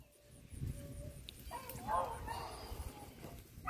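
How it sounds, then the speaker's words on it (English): Dogs, among them a seven-month-old puppy, bark and yip faintly in the distance while chasing a rabbit in the rain, with scattered calls under a soft steady background. "that's my 7-month-old puppy"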